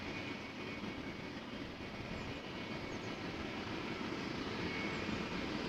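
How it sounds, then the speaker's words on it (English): A KLM Embraer E195-E2 jet at Amsterdam Schiphol after an aborted takeoff gives off a faint, steady distant engine whine and rumble with no other sounds. "Another E2 Embraer 195 aborting the takeoff."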